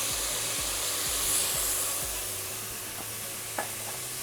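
Onions sizzle in a pan as about 90 ml of brandy is added to deglaze them, with steady frying hiss and rhythmic scraping strokes of stirring throughout, close and moderately loud.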